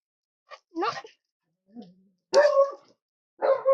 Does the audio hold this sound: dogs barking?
yes